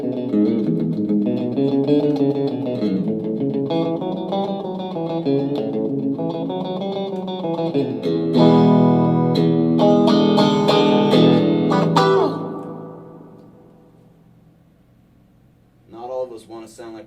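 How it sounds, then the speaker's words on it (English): Electric guitar chords through a Fender Champion 100 amplifier with reverb turned up high, each strum washing into the next; after the playing stops, a long tail lingers and slowly fades. "You can hear that reverb hangs out for quite some time after."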